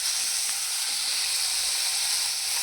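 Onion and cumin sizzling in butter in a pan, a steady close hiss of frying that holds evenly throughout with no voices.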